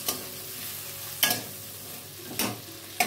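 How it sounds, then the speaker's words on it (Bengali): Onion paste frying in a pan, stirred at intervals: a steady sizzle runs throughout, with three or four louder scraping stir strokes cutting through it, close and alone with no talk. "এখন ভালো করে পেঁয়াজটা লাল করে আমি ভেজে নেব।"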